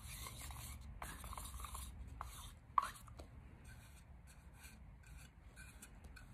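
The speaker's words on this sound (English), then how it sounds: "I'm just gonna stir that up a little bit" House paint being stirred with a wooden stick for mixing milk paint, a steady soft scraping and rubbing close by, with a sharp knock partway through, then quieter swirling.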